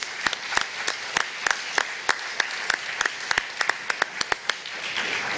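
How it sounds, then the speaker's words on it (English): An awards ceremony audience at a historic preservation event applauds donors, steady crowd clapping with a few loud individual claps standing out close by, no speech on top. "How about a round of applause for everybody who's donated tonight?"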